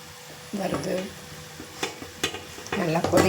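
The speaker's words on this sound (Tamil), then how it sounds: "நல்லா கொதிக்குது." Masala peanuts fry and bubble in a pan over a low flame, a steady close sizzle with intermittent stirring clinks and scrapes, alone without talk.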